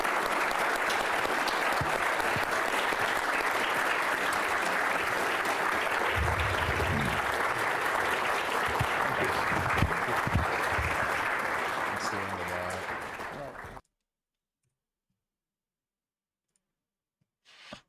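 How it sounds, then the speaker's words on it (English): A conference audience honoring Thomas Lobach applauds loudly and steadily for about fourteen seconds, a dense wash of clapping that cuts off abruptly into near silence. "Round of applause."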